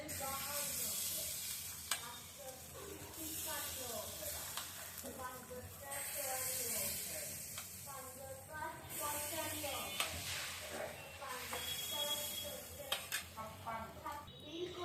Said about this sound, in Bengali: এই যে বুটবুট করে জলের বুট কেটে উঠছে